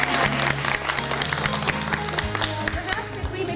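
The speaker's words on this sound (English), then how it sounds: "Big round of applause for Ms. Barnes." An elementary school crowd applauds a teacher, with a dense patter of clapping mixed with cheering and chatter over a low background hum.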